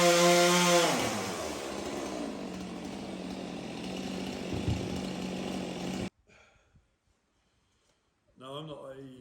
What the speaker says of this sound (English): it's a very nice chainsaw